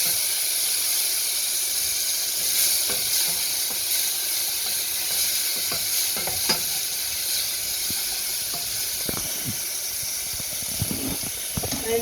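Garlic and chilli paste frying in a pan, giving a steady hiss and sizzle with a few sharp scraping stirs near the end.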